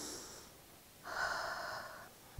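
Quiet nasal breathing, a soft inhale followed after a pause by a longer, steady airy exhale through the nose, close and faint, with no talking.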